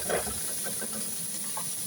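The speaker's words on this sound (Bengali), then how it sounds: "সয়াবিন তেল দিয়ে পেঁয়াজটাকে ভালো করে ভাজি করে নেবো" Onions frying in soybean oil give a steady hiss and soft sizzle, with faint crackles and stirring pops throughout, close and continuous.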